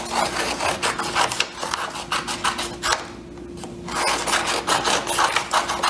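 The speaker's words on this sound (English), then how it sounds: "Now what we're going to do is cut our green piece into four strips." Scissors cut a green sheet of paper into strips, making close, repeated crisp rasping snips in quick bursts, with a short pause midway before the cutting resumes.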